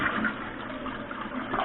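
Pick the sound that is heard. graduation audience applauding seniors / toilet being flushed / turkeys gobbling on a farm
toilet being flushed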